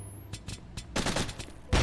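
Grenade blasts trade back and forth in a Warzone firefight, with several sharp bursts and a final heavy explosion over about two seconds, mixed with scattered gunfire-like pops and no talking.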